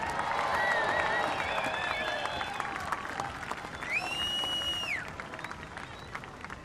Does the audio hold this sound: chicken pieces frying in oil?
no